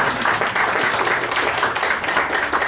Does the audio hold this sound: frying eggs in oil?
no